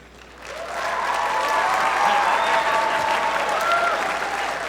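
A large crowd at a FIRST Robotics Competition regional opening ceremony breaks into sustained applause and cheering for the referees, swelling quickly and holding strong, with some shouts mixed in.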